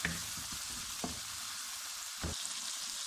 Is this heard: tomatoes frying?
yes